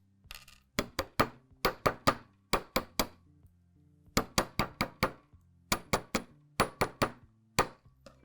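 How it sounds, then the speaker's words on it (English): Sharp metallic taps from hammering a fused metal circle pendant ring out in quick clusters of three to five strikes, separated by short pauses, close by with no talking. "Hammering it was kind of fun"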